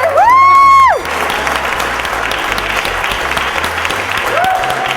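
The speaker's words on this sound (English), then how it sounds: "Can we give a round of applause to those awesome performers earlier?" Audience applause for performers at a live event fills the space steadily, with a loud sustained whistle at the start and a brief voice near the end, without cheering.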